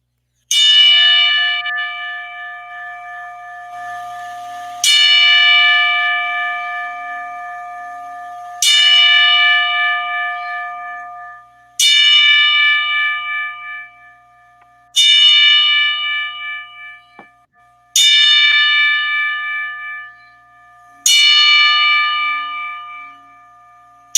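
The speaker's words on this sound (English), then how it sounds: "We're gonna do a 10-bell salute for Montequilla Napoles" A ten-bell salute for boxer Jose Napoles: seven or more loud, ringing bell strikes spaced a few seconds apart, each left to decay into near silence.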